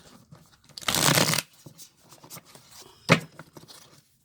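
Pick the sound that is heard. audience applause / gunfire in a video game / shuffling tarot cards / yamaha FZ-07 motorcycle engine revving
shuffling tarot cards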